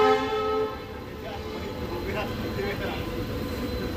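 The Shri Ganganagar–Bathinda passenger train pulls out of Malout railway station. A tonal horn sounds briefly at the start, then a steady rumble of rolling carriages continues under a voice talking.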